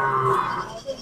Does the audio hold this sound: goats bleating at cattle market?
yes